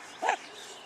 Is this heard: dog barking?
yes